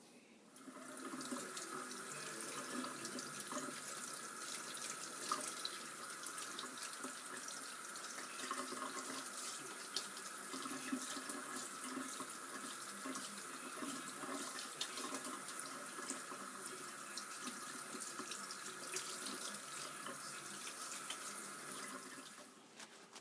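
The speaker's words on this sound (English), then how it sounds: "I'm just going to run it under the sink under some cold water and rinse off all the sugar and salt." Cold tap water runs steadily into a sink, rinsing sugar and salt off cured salmon, a continuous close splashing rush with no talk that lasts over twenty seconds.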